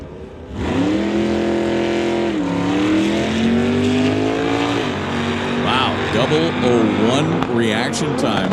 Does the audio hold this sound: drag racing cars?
yes